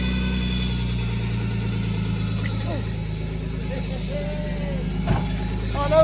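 A rebuilt Nissan Skyline engine idles steadily after starting, a low even rumble running throughout with faint mechanical ticking, close by and loud.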